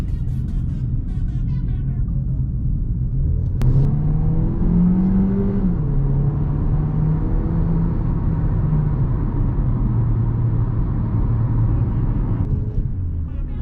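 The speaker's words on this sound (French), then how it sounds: "j'ai essayé de vous faire une petite accélération pour voir à quoi vous vous attendez" A Hyundai Tucson accelerates, its engine note rising and sliding through gears as a steady low rumble and whir build, heard from inside the car with no talk.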